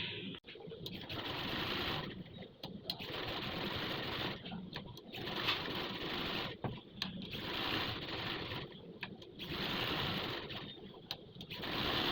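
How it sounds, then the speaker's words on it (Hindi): Electric sewing machine running in long, steady bursts, stitching the edge of a scalloped hem, with a droning whir and brief pauses between runs, close and continuous. "अब इसकी हमने किनारे की सिलाइयाँ लगानी है। आइए चलते हैं मशीन पर।"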